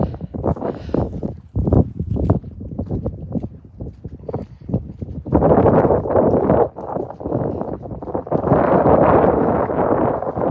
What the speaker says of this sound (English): Oh, that wind's getting chilly